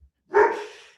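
A single short bark from a dog indoors on a rainy day, loud and close, standing alone after a moment of silence.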